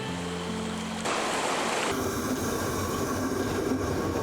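A train travels along the rail line near Seungbu station in Bonghwa, making a loud, continuous rolling rumble and rushing roar that swells after the first second and holds steady.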